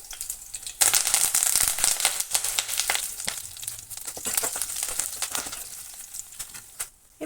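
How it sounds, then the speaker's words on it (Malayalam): A sprig of curry leaves drops into hot oil in a pan for a Kerala-style inji curry. A sudden loud sizzle bursts out and then crackles and spits steadily, fading slightly toward the end. "ഇതിലേക്ക് ഒരു തണ്ട് കറിവേപ്പില കൂടെ ചേർത്ത് കൊടുക്കുന്നുണ്ട്."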